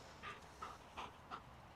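A dog panting during obedience and IGP heeling practice: four soft, evenly spaced breathy puffs, faint and close, with no voices.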